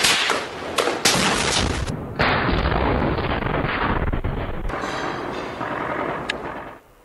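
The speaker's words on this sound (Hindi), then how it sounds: "खान यूनिस में इसराइली फौज के ज़ेर कब्जा इमारतों को धमाके से उड़ा दिया गया" Explosions blow up buildings held by Israeli forces in Khan Younis, a loud rolling series of blasts and sharp cracks that decays over several seconds, with no talk.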